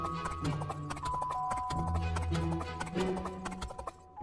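Horse hooves clip-clopping along a road and into fields at night, heard beneath a dense layer of music with sustained tones and busy percussive hits throughout.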